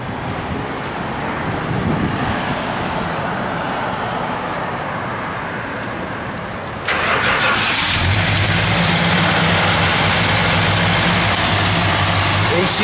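A 1969 Dodge Coronet R/T with a mildly cammed V8 fires up and settles into a loud, steady, rumbling idle close by, after a stretch of background noise and some talk.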